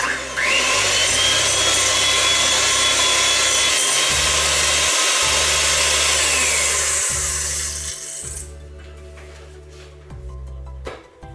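An electric mixer whisks an egg and sugar mixture with melted butter, giving a loud continuous whirring buzz that fades and stops near the end, followed by a few clinks.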